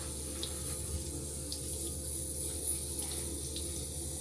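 A hotel room sink tap runs steadily in a Premier Inn in Matlock, Derbyshire, a constant close hiss of flowing water with a few faint clicks and no voice over it.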